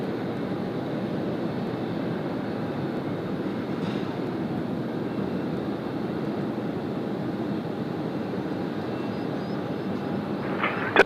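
An airliner landing at Sydney Airport: a steady, broad roar that holds at an even level for the full stretch, heard from a distance with no talk over it.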